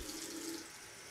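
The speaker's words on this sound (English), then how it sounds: "add a little water to this bowl." A faucet trickles water into a small shaving bowl for wet shaving with a brush and soap; a steady, close pour runs for about a second, then tapers off.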